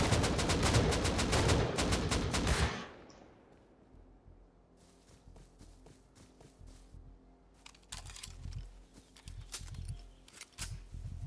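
Rapid bursts of gunfire from the survival game Rust crack loudly and close for the first few seconds, then scattered, fainter shots and clatter follow over a low background.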